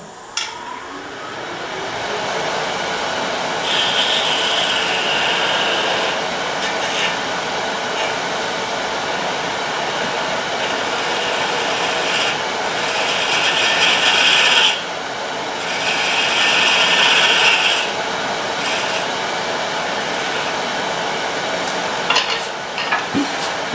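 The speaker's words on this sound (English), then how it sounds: "Use a detail gouge again." A detail gouge hollows wood on a lathe, a continuous close rasping hiss of steel cutting spinning wood, swelling in louder stretches as the tool bites, with a steady high motor whine underneath and no speech.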